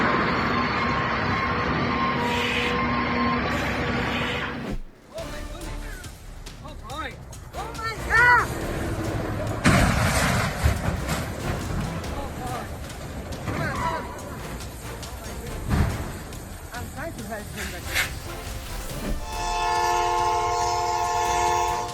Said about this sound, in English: the camera caught a train making contact with a heavily loaded trailer, creating a tense moment